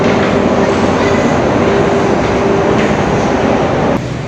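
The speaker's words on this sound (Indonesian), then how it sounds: "Nyampe di stasiun MRT." An MRT subway train at Dukuh Atas BNI station in Jakarta gives off a loud, steady roar and rumble of rolling wheels and machinery, continuous and close throughout, easing slightly at the very end, with no talk.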